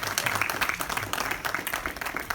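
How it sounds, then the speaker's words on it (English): Church congregation applauding together inside a house of worship, a dense continuous patter of many hands clapping at steady moderate loudness for a couple of seconds. "So clap it up for yourselves"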